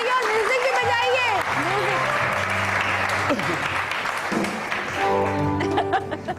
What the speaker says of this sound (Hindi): और जरा तालियां बजाइए